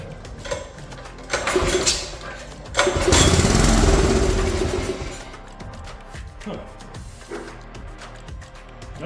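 Small engine of an old garden tiller sputtering as it is started, with a couple of brief coughs before catching and running roughly for a few seconds, then dying back to faint knocks.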